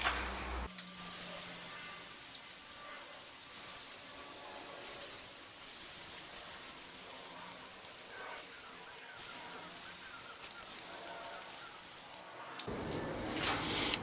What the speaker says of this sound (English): And finally, a nice coating of lacquer.